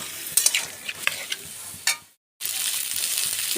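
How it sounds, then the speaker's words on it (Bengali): Fried elephant foot yam and potato pieces are stirred into spices in a sizzling pan, bursts of scraping and frying hiss up close, then a brief silence before a steady loud sizzle resumes. "ওল আর আলু যে ভেজে রেখেছি সেগুলো আমি দিয়ে দিলাম, দিয়ে ভালো করে মশলার সঙ্গে আমি মিশিয়ে নিচ্ছি।"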